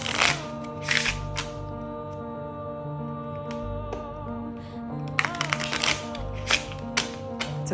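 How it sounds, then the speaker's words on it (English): A brand-new, still very stiff tarot deck is shuffled with crisp riffling bursts and softer slides between them, fairly close, over a faint steady musical background. "Cards are kind of splitting apart here."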